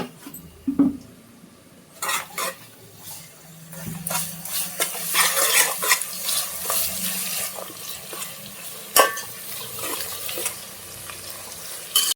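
Onions fry in a pan as ginger garlic paste is added, giving irregular sizzling and stirring scrapes with clattering bursts, close and moderately loud, with no talk.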